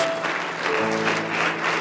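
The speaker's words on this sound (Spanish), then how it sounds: "¿Puede darle un aplauso de alabanza a nuestro Señor Jesús?" A church congregation claps in praise, a steady wash of applause throughout, with a faint sustained tone sounding beneath it.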